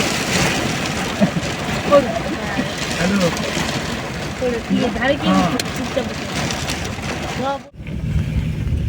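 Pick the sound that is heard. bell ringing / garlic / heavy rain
heavy rain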